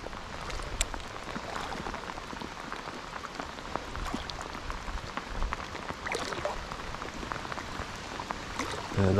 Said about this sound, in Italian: perché piove troppo